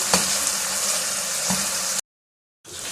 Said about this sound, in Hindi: अब फ्लेम तेज़ कर लेंगे और हमने इस मसाले को अच्छी तरह भुनाई कर लेना है।